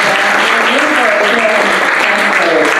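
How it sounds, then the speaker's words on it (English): Steady, dense applause from a crowd, sustained throughout with a few voices faintly audible underneath. "So please give a big applause to them."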